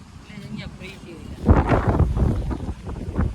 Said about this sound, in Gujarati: મસ્ત મજાનો પવન આવે છે, જોવો તમે